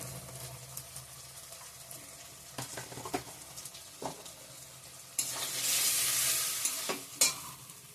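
Ground chilli, turmeric and cumin powder going into a frying pan and stirred, with soft scraping taps and a low sizzle, rising to a louder burst of frying hiss near the end.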